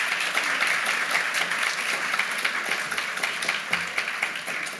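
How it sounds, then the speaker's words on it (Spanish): An audience at an academic event at a Chilean professional institute applauds, with steady, even clapping from a modest crowd that carries on for several seconds before tapering slightly. "Ok, un aplauso, sí, aplaudan."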